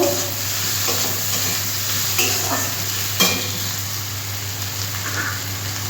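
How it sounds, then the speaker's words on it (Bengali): Okra with salt fries in a pan with a continuous sizzle and a low steady hum underneath, while a spatula stirs in soft scrapes and one sharper knock. "লবণটা দিয়ে আমি একটু কষিয়ে নেব"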